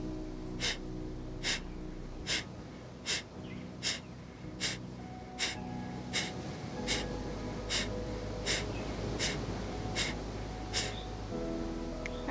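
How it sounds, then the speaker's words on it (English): Short, sharp exhaled breaths from a yoga breathing exercise, fifteen quick puffs in an even rhythm of about one every 0.7 seconds, close and clear over a faint steady hum, with no talking. "we exhale with short, sharp breaths"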